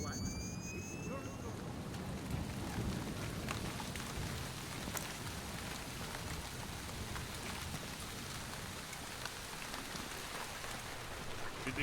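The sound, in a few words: heavy rain, video game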